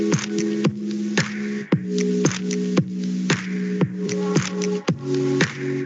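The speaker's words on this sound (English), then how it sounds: "I actually took these chords and converted them to a synth to see if I could make that same" Sustained synth chords with steady harmonic layers, backed by a light, regular drum beat of sharp broadband hits repeating every half second or so, played alone at moderate loudness.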